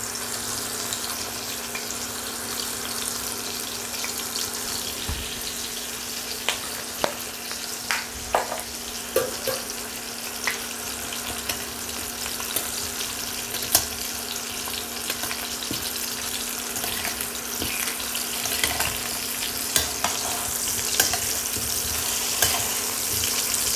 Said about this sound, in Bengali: আলুগুলো ভাজা হয়ে গেছে এবার আমি নামিয়ে নেব